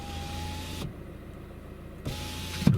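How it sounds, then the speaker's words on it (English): A Mercedes car's electric power window motor runs in separate stages, a steady whine stopping and restarting with a brief pause between, faint and close inside the car. "you might be able to hear the window going down in 3 stages"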